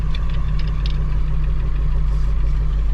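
Ford F250 with a 7.3 diesel engine idling just after cranking, a steady loud low drone with a rapid uneven knock, close and continuous, with no voices.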